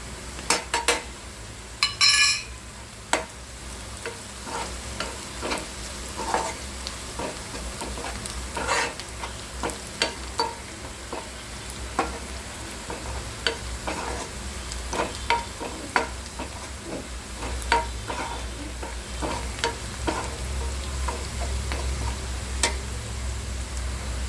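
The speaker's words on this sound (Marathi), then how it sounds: "कांदा भाजताना जर आपण हिंग पावडर टाकली ना तर याला वास खूप छान येतो" Onions and curry leaves frying in a pan with asafoetida powder, a continuous crackling sizzle dotted with frequent clinks and scrapes of a spoon against the pan, close by and moderately loud throughout.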